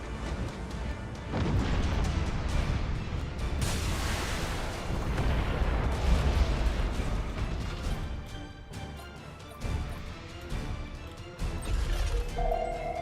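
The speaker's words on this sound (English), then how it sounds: "We're gonna throw some torpedoes through this." Heavy booming crashes and weapon fire from torpedoes and ship guns in a Warhammer 40,000 Word Bearers space battle video game, dense and continuous with rumbling impacts throughout.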